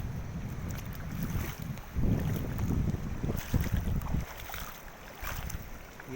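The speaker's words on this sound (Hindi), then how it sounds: "देखो सब तरफ पानी ही पानी" A flooded village river rushes past, heard as a steady broadband roar of turbulent water mixed with heavy wind buffeting the microphone, fairly loud and continuous with brief surges.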